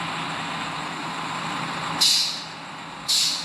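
A bus in Bus Simulator Indonesia releases two sharp hissing air-brake bursts over a steady engine drone, the second following about a second after the first.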